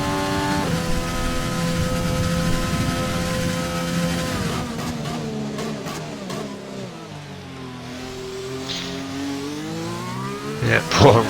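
Race cars in an Austrian racing video game circuit run bunched behind a safety car, engine tones holding steady then sliding and shifting as they follow, with a brief sharper burst near the end; commentary voices talk over the engines.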